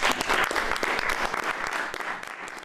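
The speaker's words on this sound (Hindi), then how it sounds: "पूरी कैबिनेट ने ताली बजाकर इसकी खुशी जताई" Applause from a cabinet meeting with Trump, a dense burst of many hands clapping together that thins slightly toward the end, with no speech.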